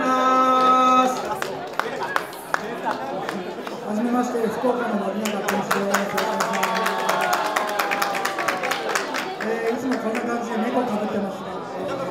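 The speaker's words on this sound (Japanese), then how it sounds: "拍手お願いします" Audience applause and chatter at a wedding photography party event, scattered claps rising into steady clapping across the room, mixed with crowd murmur and a voice speaking over it.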